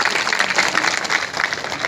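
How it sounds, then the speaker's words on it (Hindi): A short, loud burst of audience applause at a public programme honouring Babasaheb Ambedkar, many hands clapping densely and close together with no pause. "सब लोग के बाद जोरदार ताली लगाइए"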